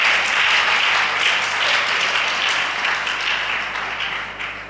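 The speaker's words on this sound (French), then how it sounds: "Acclamons pour vous-même." A church congregation claps together in a dense, sustained burst of applause at a Sunday worship service, loud at first and then slowly fading.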